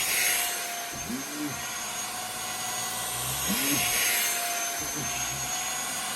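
A UV mattress vacuum runs steadily over a mattress with a continuous whirring motor hum, close and fairly loud, while a voice speaks briefly over it.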